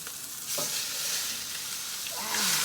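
A steak flipped in a pot for steak in brown gravy sears with a loud, continuous sizzle that swells as the meat settles, close and with no talking.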